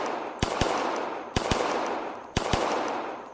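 Pistol doubles fired in the ACE VR shooting game: three pairs of sharp, loud gunshots, each pair in quick succession, spaced about a second apart over a steady background hum.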